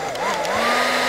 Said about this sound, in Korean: 드라이기를 틀어 건물을 정전시킨 후